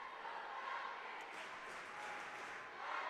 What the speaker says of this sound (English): This crowd getting into it here at the Stroh Center.